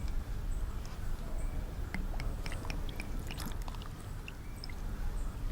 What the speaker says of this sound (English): pour your wine vinegar on top